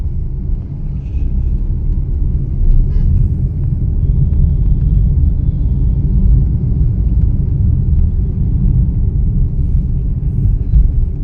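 A car driven in first gear under steady accelerator, heard from inside as a loud, continuous low engine rumble that holds fairly even throughout, with no speech over it.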